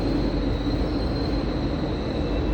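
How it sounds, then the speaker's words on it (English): A long TGV high-speed train bound for Paris: a loud, steady, close rumble of rolling wheels with a faint thin high whine above, continuous and unbroken. "So this train is going to Paris,"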